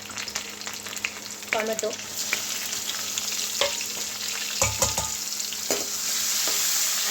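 Cumin, curry leaves and a pinch of asafoetida sizzle and crackle in hot oil as tempering for dal, a steady close frying hiss with stirring clinks and a voice speaking briefly over it.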